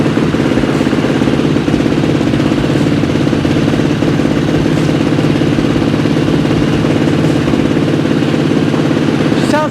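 A Yamaha YFZ450R ATV fitted with a Yoshimura exhaust idles steadily, a loud, close, even thumping single-cylinder putter with light mechanical clatter and no revving.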